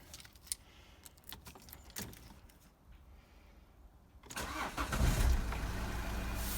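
A Peugeot Partner van engine cranks and starts after quiet handling noises, then settles into a loud, steady idle that is close by.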